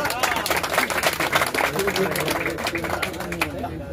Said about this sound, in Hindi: तो एक बार इनके दोनों के लिए ताली हो जाइए।